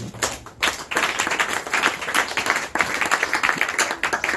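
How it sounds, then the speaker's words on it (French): A church congregation breaks into clapping, close and lively, with uneven bursts of hand claps that rise and fall over several seconds. "Acclamons la parole du Seigneur."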